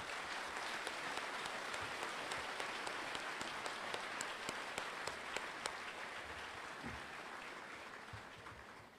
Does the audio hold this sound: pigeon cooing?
no